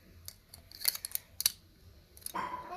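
Small stationery scissors with a protective blade guard make a series of quiet, close snips at an uneven rhythm, with sharp crisp clicks as the blades close.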